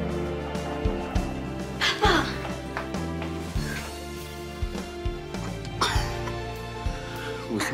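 A woman coughs repeatedly in short, harsh bursts, several hacking coughs and throat clearings spread across the moment at close range, with little else around them.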